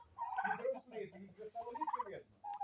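Four male turkeys and five hens gobble close by in rapid, bubbling bursts, with the calls overlapping almost continuously with brief pauses between them.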